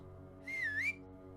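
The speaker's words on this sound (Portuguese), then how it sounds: "nós ouvimos um assobio baixo e distante" A single low whistle rises and dips in one smooth glide, lasting about half a second over a steady, faint background hum.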